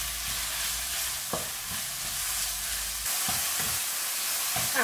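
Pork stir-fries with chili paste and vegetables in a pan, a hissing sizzle broken by several dull scrapes and knocks as the food is tossed.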